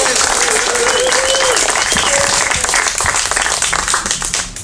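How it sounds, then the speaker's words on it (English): A crowd at a political rally applauds steadily, dense clapping close and loud for several seconds before tapering off at the end. "How about another round of applause for Jackie?"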